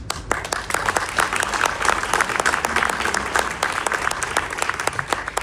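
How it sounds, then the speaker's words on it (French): A crowd at a political rally in Gennevilliers claps and applauds steadily throughout, dense rapid hand claps forming a continuous wash of applause at moderate distance. "Applaudissez-vous parce que c'est vous aussi les forces vives de ce combat."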